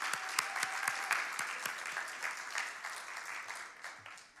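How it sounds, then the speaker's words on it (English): An audience applauds a panel at an anniversary event, a dense round of clapping with sharp individual claps standing out, loud at first and gradually thinning as it tapers off. "Let's give another round of applause to our panel"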